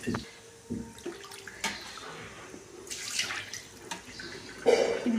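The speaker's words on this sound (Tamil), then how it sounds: "இப்போ இந்த காடையும் நல்ல தண்ணி ஊற்றி ஒரு கழுவு மட்டும் கழுவிக்கலாம்" Water splashes and trickles intermittently as quail meat is rinsed under a running tap, with soft clatter in between.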